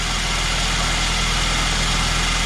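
A 2011 Volvo V50 2.0 petrol engine idles steadily with the A/C compressor engaged and spinning, a constant close hum with no talk.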